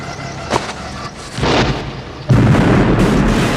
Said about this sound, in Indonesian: granat malah terlempar ke belakangnya lalu meledak